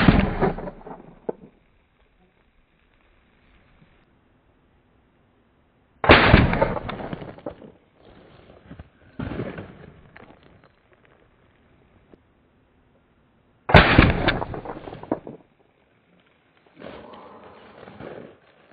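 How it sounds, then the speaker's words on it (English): A shotgun loaded with birdshot fires at a snow-covered berm outdoors, three loud, separate blasts spaced several seconds apart, each followed by a rolling echo that fades away. "let's load it up with some birdshot and take a few shots at a snow-covered berm"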